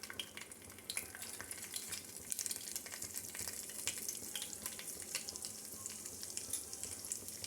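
Mustard seeds and cumin splutter in hot oil, a quiet continuous crackle with scattered sharp pops throughout, no voices.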